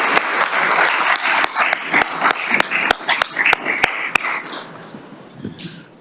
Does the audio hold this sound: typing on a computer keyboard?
no